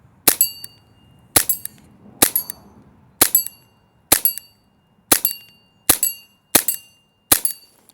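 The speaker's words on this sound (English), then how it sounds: "So again, just going to fire a few shots off, and just for a bit of fun." Airsoft gun firing tracer rounds at a target system downrange, nine sharp cracks each followed by a short metallic ring, spaced about a second apart, loud and close with no talking.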